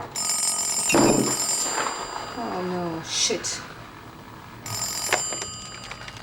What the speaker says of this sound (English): I wasn't getting any closer to an answer when the phone rang